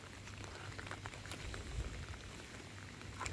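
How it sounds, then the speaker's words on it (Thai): Steady rain falls outdoors beside flooded rice fields, a soft, continuous pattering hiss held at a faint, even level throughout. "ตอนนี้กับฝนก็ยังตกอยู่ ฝนตก"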